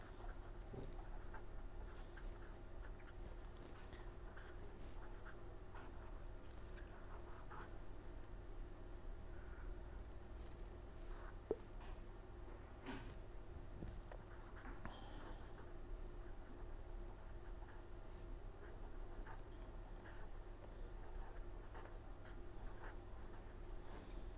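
Pen or marker scratching steadily across a board or tablet while an equation for flow between two parallel plates is written out, a quiet continuous scribble over a low background hum with no talking.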